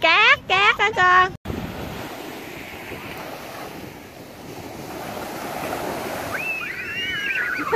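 Ocean surf at a beach on a day of big waves, a steady wash of breaking water and wind noise, with children's voices shouting briefly at the start and faint high cries later.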